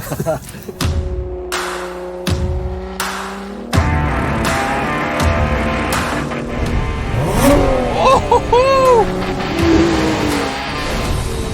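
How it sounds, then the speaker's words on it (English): A Lotus Emira's engine roars at a live launch event: several sharp bursts lead into a sustained, loud revving growl with rising and falling pitch sweeps near the end, heard up close. "This engine just roars."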